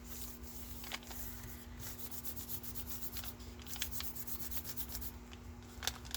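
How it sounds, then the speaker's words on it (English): Paper rubbed down by hand onto a painted Gelli plate, producing faint, close, soft scratchy rubbing strokes in an irregular rhythm over a low steady hum. "I just want to make sure that I rub it down real good into the cutout parts so that we get that paint"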